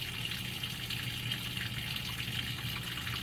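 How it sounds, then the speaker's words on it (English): A Whirlpool washing machine fills with water, a steady rushing gush into the drum that runs unbroken and fairly quiet throughout, with no voices. "it's adding more water now"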